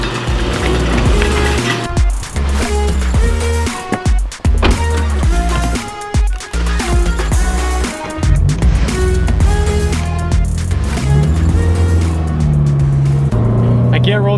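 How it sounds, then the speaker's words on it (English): A Subaru BRZ sports car's engine and exhaust rumble and rise as it drives, with revs climbing and dropping, loud and close throughout. "at least the exhaust makes it sound good"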